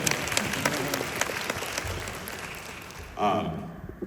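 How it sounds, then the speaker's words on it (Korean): An audience at a town hall meeting on Jeju claps in a sustained burst of applause lasting several seconds, a dense crowd of hands that fades near the end. "박수 한번 주세요."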